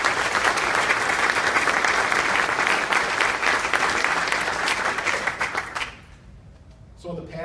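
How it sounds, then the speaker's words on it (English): Sustained applause from an audience at a St. Paul police awards ceremony honouring officers and civilian staff, dense clapping for about six seconds before it dies away into quiet. "Let's give our public servants a round of applause."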